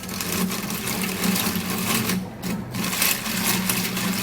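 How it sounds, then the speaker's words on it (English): A hand-cranked manual mixer whirs steadily through a toothpaste mixture, a continuous mechanical rattle with a rhythmic pulse and one brief dip midway, close and fairly loud throughout. "I'm going to be using my manual mixer so I can have a nice mix"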